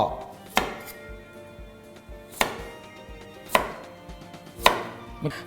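A knife chops through a carrot onto a board in about five sharp, evenly spaced strokes, close and clear with no talking.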